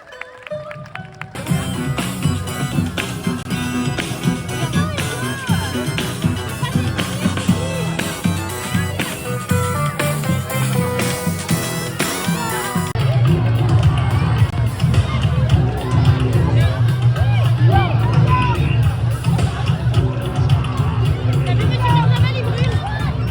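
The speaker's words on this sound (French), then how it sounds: "Et on les applaudit bien fort." A carnival crowd applauds and cheers loudly and continuously, dense babble and clapping filling the air with music and voices mixed in, the roar growing heavier partway through.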